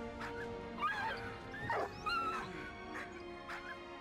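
A dog in the video game Valiant Hearts barks and whimpers in several short yelps and whines over a steady hum of game ambience, with no talking.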